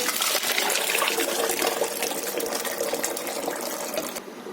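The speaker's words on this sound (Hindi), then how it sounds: "अब इसमें डालेंगे हम ये दाल।" Cooked lentil dal poured into mutton korma in a cooking pot for mutton khichda, a wet gushing, splattering pour close up that runs steadily for several seconds, then tapers off near the end.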